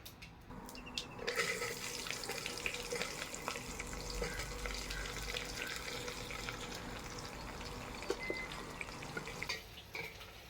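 Small shallots frying in hot oil with cinnamon, bark spice, fennel and cardamom give a continuous dense crackling sizzle, close and steady, with occasional light stirring clinks and no talking.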